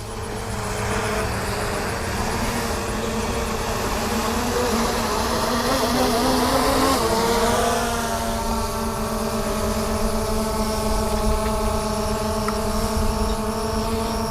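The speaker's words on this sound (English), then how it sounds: "the drone is coming back down into place." A DJI Mavic Air 2 drone descending, its propellers giving a loud, close, insect-like buzzing whine with layered tones that shift downward in pitch midway, then hold steady as it hovers.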